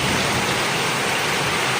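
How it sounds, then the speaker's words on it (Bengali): Rain pours down on potted plants during a thunderstorm, a dense, even hiss of falling water that stays loud and unbroken for the whole two seconds. "আমার গাছগুলোতে কি সুন্দর ভালো পানি পড়তেছে, তো মানে বৃষ্টির পানি তো সব থেকে বেস্ট পানি হয়"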